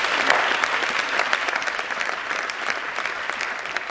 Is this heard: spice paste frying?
no